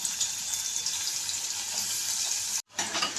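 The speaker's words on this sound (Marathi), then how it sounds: "तेल गरम झालंय आपलं, आणि आता आपण त्यामध्ये बारीक चिरलेला कांदा टाकतोय" Finely chopped onion hits hot oil in a wok, giving a loud, steady broadband sizzle that cuts out abruptly near the end, then resumes.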